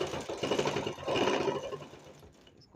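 A sewing machine stitches thick fabric in a continuous close whirring run that eases off toward the end, with no talking.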